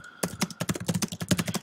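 Fingers typing on a Mac computer keyboard, a quick irregular run of crisp, close key clicks with small pauses between bursts, no voices.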